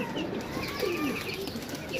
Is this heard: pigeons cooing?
yes